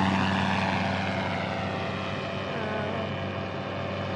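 A paramotor flying past, a steady loud propeller engine drone that holds close and full throughout, with the pitch shifting slightly as it passes, no talking.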